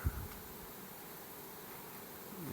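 Honey bees forage intensively on a flowering crop in the early evening, making a faint, continuous buzzing hum with no voices.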